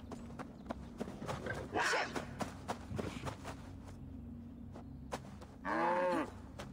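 Cows in Assassin's Creed Valhalla give two drawn-out moos, fairly close, over hoof clops, footsteps and low game ambience.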